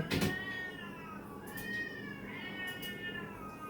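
Cats yowl and caterwaul in a fight, long wavering howls rising and falling over a quiet background with a sharp burst at the start.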